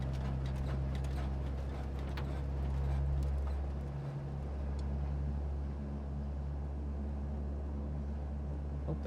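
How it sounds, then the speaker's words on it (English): Starter cranking a Black Square Baron's piston engine in Microsoft Flight Simulator 2020, a steady low droning churn that never catches, loud and continuous for the whole stretch with a brief dip midway. "Oh, the engine will not kick over."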